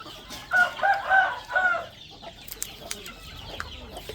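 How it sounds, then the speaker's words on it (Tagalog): A rooster crows loudly and close for a couple of seconds, with chickens clucking and scratchy farmyard noises continuing more faintly afterward. "Ayan yung mga manok ni Pogi"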